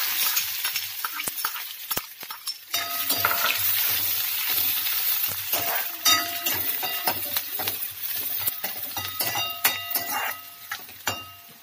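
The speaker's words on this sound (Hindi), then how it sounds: "प्याज और लहसुन भुन गया" Onion, garlic and cumin frying in a pan for masala khichdi, a steady sizzle with frequent metallic scraping and clinks of a spoon stirring, close and heard alone.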